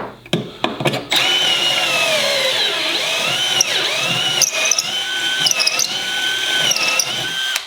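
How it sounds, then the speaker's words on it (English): An electric drill whines at high speed for several seconds boring pocket holes with a Kreg K4 jig, its pitch dipping as it bites in, then stops after a few short bursts. "after using this drill right here, I decided it might be a little bit underpowered"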